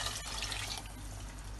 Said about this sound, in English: And I'm going to add around 3 cups of water,